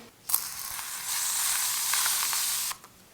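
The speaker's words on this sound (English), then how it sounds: "all of the SPF is sprayed out, and then you just have to like blend it in" A mineral sunscreen spray releases a steady aerosol hiss of about two and a half seconds, close up and alone, starting with a sharp burst and cutting off abruptly.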